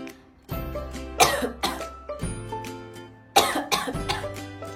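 A person coughs repeatedly and clears their throat. The bursts are close and loud, separated by short pauses, with a low voiced rasp between them and no talk.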